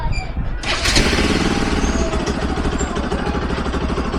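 A Rouser RS200 motorcycle engine turns over and settles into a steady, close idle around 1,500 RPM after an ECU parameter reset, running continuously and loud with a rapid even pulse.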